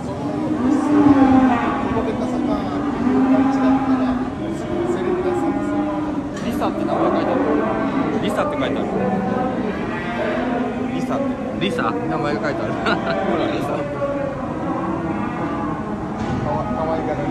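Ishigaki cattle at a farm moo repeatedly, with several loud, drawn-out calls close by. People talk throughout.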